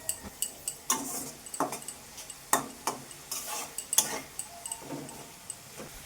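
Small river fish simmering with kulekhara greens in a pan, heard as a string of close utensil taps and scrapes over a faint bubbling hiss, with no talk.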